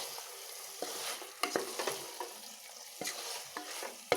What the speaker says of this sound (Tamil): அப்புறம் கிளறி விட்டுக்கோங்க.